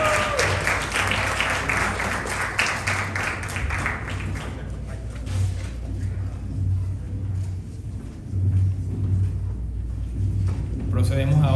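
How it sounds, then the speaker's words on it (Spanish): Audience applause swells loudly at first, then settles into a dense, steady patter of many hands clapping, with some talk mixed in. "Un fuerte aplauso."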